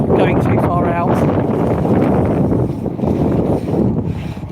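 Gusty wind buffets the microphone with a loud, low rumble that surges and eases, and a voice is faintly mixed in.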